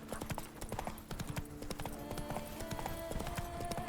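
Geralt's horse Roach in The Witcher 3 trotting along, a brisk run of close clip-clop hoofbeats with a faint snort or whinny, over tonal game ambience and no talking.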